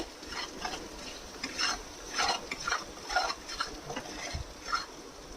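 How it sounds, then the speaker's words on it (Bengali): Spices for a fish jhal with topse fish, salt and turmeric stir-fry in a pan, giving a soft sizzle under repeated scraping and stirring strokes at an uneven rhythm, close by and fairly quiet, without speech. "পরিমাণ মতো সল্ট হাফ চামচ হলুদের গুঁড়ো এটাকে এবারে ভালো করে কষাবো"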